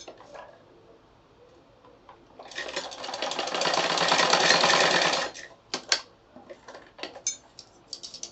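A sewing machine stitches a bias piping strip in one sustained whirring run of about three seconds, close and fairly loud, followed by a few short clicks and handling taps.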